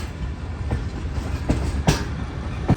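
A passenger train of the Shalimar Express rolls into Bahawalpur station, wheels clacking steadily over rail joints with sharp metallic clicks at intervals and a continuous low rumble, heard from aboard an old parlour car.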